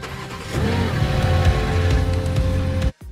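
A BMW M3 car engine with accident damage cranks and catches, then settles into a steady mid-pitched idle that runs for a few seconds before cutting off abruptly.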